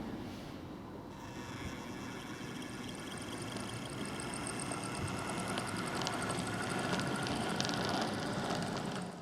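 A Hornby Class 60 model locomotive's motor runs steadily on a layout, giving a continuous whirring mechanical drone with rattling track noise that grows slightly louder as it nears, with no voice.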